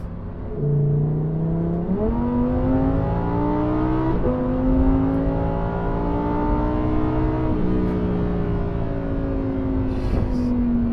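Lamborghini Huracan Sterrato engine and exhaust revving loudly and steadily, with pitch climbing in stepped surges like gear changes, close and sustained with no talking.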